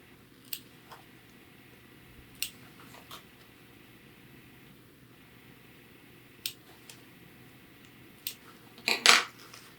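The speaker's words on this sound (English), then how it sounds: "Again, just clipping through the facing, and I'm still supporting my scissors with my hand underneath here." Scissors snip through the facing fabric of a jacket under construction, a few sparse, quiet clicks spaced seconds apart over a soft room hiss, ending in a louder cluster of cuts near the close.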